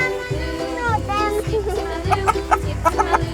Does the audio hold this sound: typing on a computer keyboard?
no